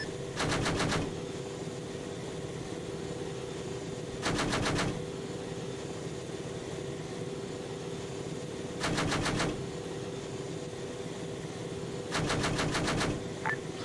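Gunship cannons fire in ARMA 3 in four loud, rapid bursts, each about a second long, with steady background rumble and no talk in the gaps.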